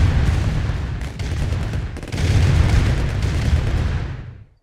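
Cannon towers firing in C&C Red Alert, a dense stretch of booming artillery-like blasts with rapid gunfire layered over it, loud and sustained for several seconds before cutting off abruptly.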